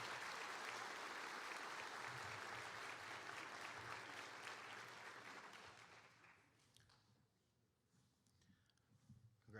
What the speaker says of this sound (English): Let's give these 4 a round of applause